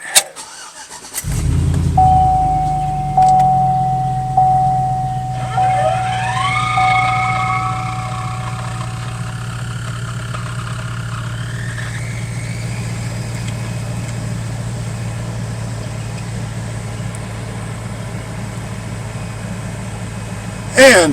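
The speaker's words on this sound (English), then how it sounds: "And we have a blower motor and we have cold air." A newly replaced car HVAC blower motor starts up after a few brief clicks and settles into a steady whirring drone, rising in pitch through a couple of speed steps, close and continuous with no talk over it.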